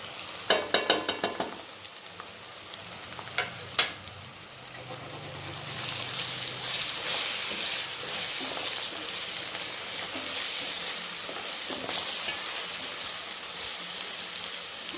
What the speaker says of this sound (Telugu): మసాలాలన్నీ బాగా వేగిపోయినాయి కదా